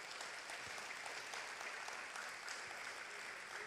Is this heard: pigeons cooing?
no